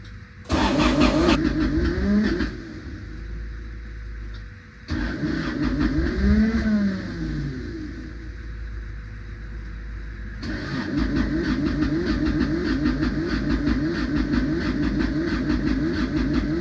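A 1997 JDM Honda Accord wagon, in for repairs, cranks and fires up more than once, the engine catching with a loud burst each time, then settling into a steady close idle.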